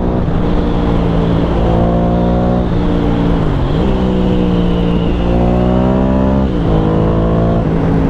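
A loud Ducati Hypermotard 1100 Evo engine revs hard and accelerates, its pitch climbing and dropping through several gear shifts, close up with no talking.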